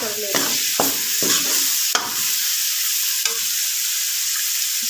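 A spice mix of chili, turmeric and salt stirred in a frying pan for homemade bhujia, with a steady loud sizzle and a few sharp scraping strokes of the spoon, close up.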